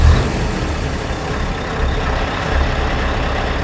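A heavy Scania 730 truck engine rumbles loudly and continuously, its deep exhaust note swelling a couple of times as it idles and revs nearby.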